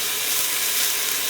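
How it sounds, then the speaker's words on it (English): Diced onion sizzling in a pan as it is stirred, a dense, even hiss of frying held close and steady throughout. "I have got 1 large onion here that I have diced up fairly fine. That's going in."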